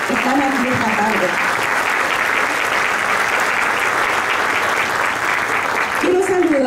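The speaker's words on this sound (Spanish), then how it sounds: "Un aplauso para todas las mujeres rurales que están aquí esta tarde." Seminar audience on sustainable tourism and renewable energy applauds for rural women present, loud continuous clapping across several seconds, with a voice audible at the start and again as it fades.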